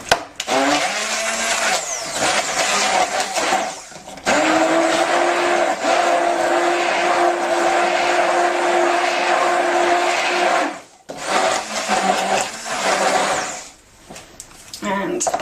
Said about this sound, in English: we're blending it until it's all sort of foamy